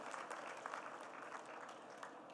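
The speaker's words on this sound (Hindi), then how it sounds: "उनके लिए भी जोरदार करतल ध्वनि से तालियां बजाकर स्वागत करें।" Audience applause at an Arya Samaj convention session in Jaipur, Rajasthan: a dense, steady wash of many hands clapping at even loudness, fairly quiet and distant, with no voices over it.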